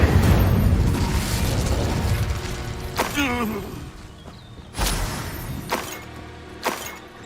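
An Incendio fire spell cast in Hogwarts Legacy, a dense whooshing roar that fades, followed by several sharp bursts and pops with a warbling tone between them.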